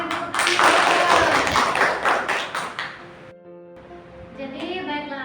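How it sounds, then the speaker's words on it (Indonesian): Classroom of children clapping their hands together, loud and dense for about three seconds before fading into quieter room noise with a faint tone. "Berikan tepuk tangan."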